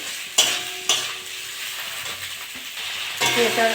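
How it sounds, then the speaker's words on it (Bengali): Potatoes are stirred into onions and green chillies frying in a pan for an okra and potato fry, giving a steady close sizzle with a few sharp scraping stirs near the start and end. "পেঁয়াজটা ভাজা হয়ে গেছে, এবার আলুগুলো দিয়ে দেবো। একটু নেড়ে চেড়ে নেবো।"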